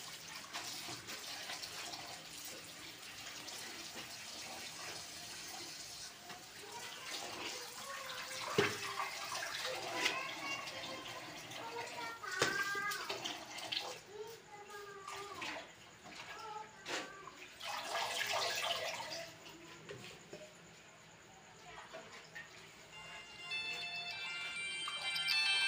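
Tap water running and splashing while lentils are rinsed by hand for dal saag, a quiet, continuous gush with occasional clinks and swishes, and a voice speaking now and then.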